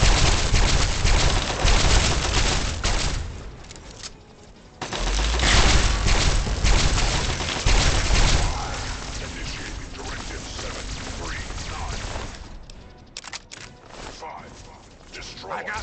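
Bursts of gunfire in the video game Fallout 3, heavy rapid volleys from several weapons, loud at the start, then a pause and further shots that grow sparser and fainter amid the noise of battle.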